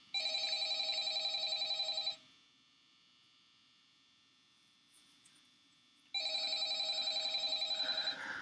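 A telephone rings in the horror video game Five Nights at Freddy's, sounding as two loud bursts of rapid electronic trilling separated by a few seconds of near silence.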